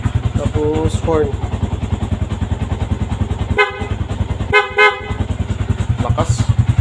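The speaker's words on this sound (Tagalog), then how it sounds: "Tapos horn." A Yamaha Sniper motorcycle's horn beeps twice in short bursts over its steady idling engine after nearly two months in storage, with a voice heard briefly near the start.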